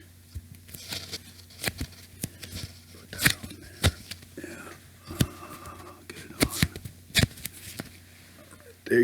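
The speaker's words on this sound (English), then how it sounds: "Just need to get a little tape on this." Tape is pulled from a roll and pressed on in a quiet indoor scene, heard as close crinkles, short tearing rasps and soft taps, with low murmured speech in between.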